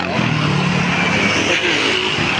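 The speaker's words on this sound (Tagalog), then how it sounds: "Hala, sige, naglilipatan ng mga motor." Cars and motorcycles on a highway after overnight rain: a steady, loud wash of engine and road noise with a low motor drone and tyre hiss, continuous throughout.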